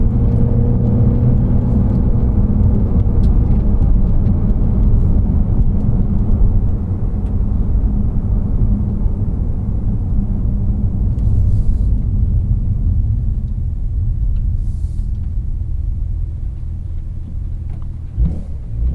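A 2024 Porsche 911 Carrera T (992.1) drives along with a steady, loud engine and road rumble throughout, easing slightly midway and lifting again near the end, with no talk over it.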